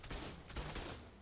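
Gunfire in the video game Ark, a few sharp, low shots in quick succession, quiet and somewhat distant.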